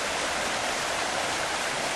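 Water is poured gently from a bucket to rinse a gold prospecting sluice, a steady, even rush and splash like a small stream, close and continuous without pause.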